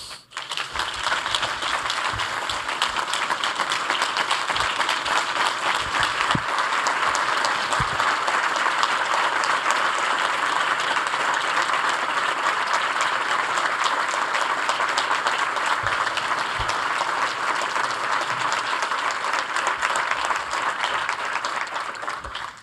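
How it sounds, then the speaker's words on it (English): Sustained applause from a large conference keynote audience, steady and full for over twenty seconds, with a few sharper claps standing out. "I just wanted to humbly thank everybody for that round of applause"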